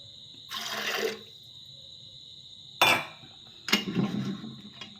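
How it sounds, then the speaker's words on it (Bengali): Water splashes from a vessel onto dried peas in a pressure cooker in a home kitchen, two or three short close pours separated by pauses, with light metallic clinks against the pot. "এবার পরিমাণ মতো জল দিয়ে দেবো মটরটা।"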